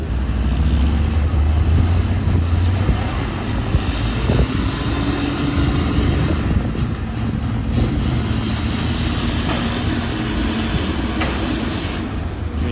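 A heavy 12-wheel dump truck labors in sandy soil beside an excavator, its engine droning and straining loudly with rumbling low end and shifting pitch throughout, no speech.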